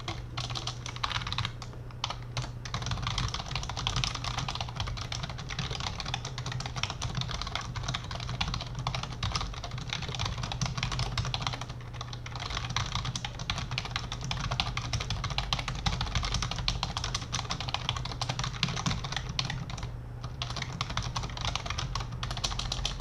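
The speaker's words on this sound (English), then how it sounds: "do you hear my keyboard and my mouse?" Rapid, continuous computer keyboard typing with occasional mouse clicks during competitive programming, close and steady throughout with brief pauses, no voices.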